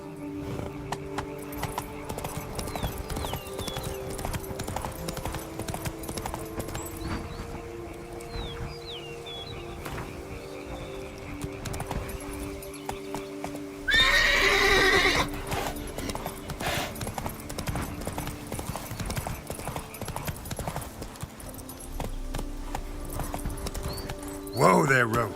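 Steady clip-clop of horse hooves at a gallop in the video game The Witcher 3: Wild Hunt, continuous and rhythmic, with a brief horse whinny partway through and occasional talking over it.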